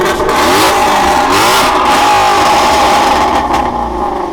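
A Voodoo V8 screaming at very high RPM, loud and close, with a sustained sweeping engine note that rises and falls in pitch for several seconds.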